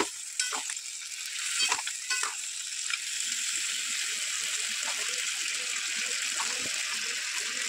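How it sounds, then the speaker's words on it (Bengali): Fried potatoes, green banana, drumsticks and bori are stirred in a pan, producing a continuous close hissing sizzle with a few scraping stirs near the start. "ভেজে রাখা আলু, কাঁচা কলা, সজনে ডাঁটা, বড়ি দিয়ে দেবো। দিয়ে খানিকক্ষণ নাড়াচাড়া করে নেবো।"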